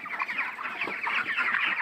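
Broiler chickens on a poultry farm clucking continuously, a dense overlapping chorus of many birds close by with no talk.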